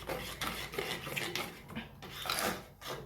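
Batter for chocolate truffles, with strong baking powder just added, being mixed in a bowl: continuous scraping and rubbing strokes with light clinks against the bowl, close and steady throughout, no voices.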